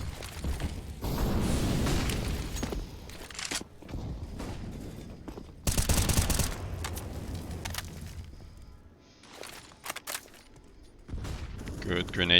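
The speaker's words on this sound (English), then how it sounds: "Good grenade damage from Weinzel." Grenade blasts and bursts of gunfire in a competitive Counter-Strike: GO match, loud broadband bangs separated by quieter stretches of footsteps and clicks, with commentators talking over the action.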